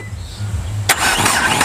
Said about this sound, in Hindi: ये देखो गाड़ी चालू हो गई